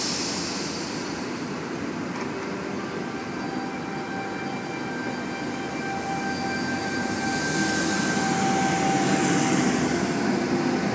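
A Sydney Trains suburban train, cars C6 and C14, departs the platform at Bankstown with a continuous loud rumble of wheels and motors, faint tonal whines rising gradually as it pulls away.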